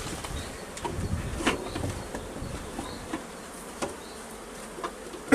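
A honeybee colony with two supers droning in an open hive, a continuous close buzzing hum with individual bees passing near, moderately loud and steady.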